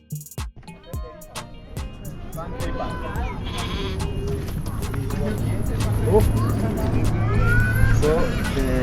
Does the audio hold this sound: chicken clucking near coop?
no